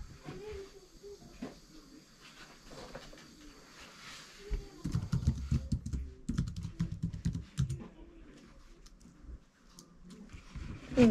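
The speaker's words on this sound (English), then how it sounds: "wireless Apple keyboard I've got. It's pretty nice." Typing on a wireless Apple keyboard at a home computer, a run of quick close key clicks through the middle stretch, with soft bird cooing in the background.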